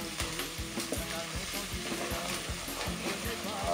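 Turmeric being stirred into a sizzling sauce for riz zembrocal with potatoes: a continuous close fry and sizzle with regular rhythmic scrapes of a spoon against the pan.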